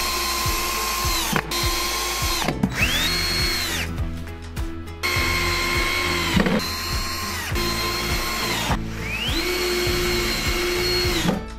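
A power drill drives self-tapping screws from a hardware kit into the footboard ends of a 90x200 bed frame, its motor whining in several long, loud bursts with brief pauses between them, close up and with no talk.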